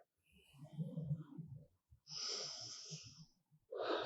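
Deep yoga breaths: slow, airy exhales and inhales close to the ear, a soft breathy rush followed by two long hissing breaths, quiet and isolated with no talking.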